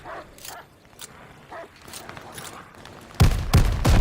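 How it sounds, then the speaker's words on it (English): Dogs in the Call of Duty Vanguard video game bark in the middle of battle noise. Faint, scattered sounds give way to a run of loud, close barks at the end. "how loud these fucking dogs are"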